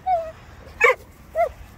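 A dog gives a short yip followed by two sharp barks, close by and spaced out, with a quiet pause between each.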